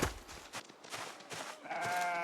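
In the video game Project Zomboid, sheep let out a few short bleats amid game sounds, with a longer wavering bleat toward the end.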